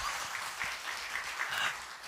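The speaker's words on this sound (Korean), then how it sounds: "가서 잘하라고 박수 한번 뜨겁게 하겠습니다" A church congregation claps warmly at an afternoon service, a dense, continuous wash of many hands, loud and steady with slight swells.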